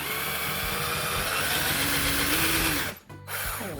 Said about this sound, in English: I'm just going to drill out one of the